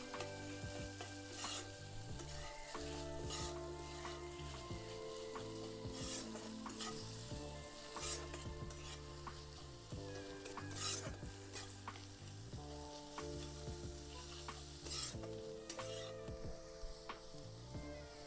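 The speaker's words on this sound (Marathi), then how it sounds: "मिक्स करून घ्यायचं मस्त" A monsoon wild vegetable, khurasni leaves, fries in a pan while being stirred, producing a steady quiet sizzle with repeated rhythmic scraping and clinks of a spoon against the pan, no voices.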